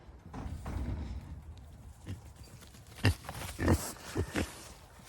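Pigs on a small farm grunt and snort in several short, close bursts after a stretch of low rustling, with no talking.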